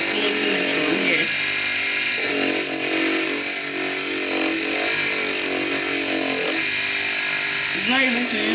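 Electric filing machine smoothing the edge of a handmade Hermes-style slipper, a steady broadband grinding whir running throughout, with a person talking over it.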